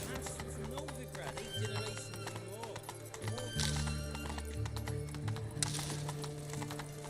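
Roach the horse in The Witcher 3 galloping, rhythmic hoof clip-clops with a whinny, under a musical score and game effects, with a voice talking over it.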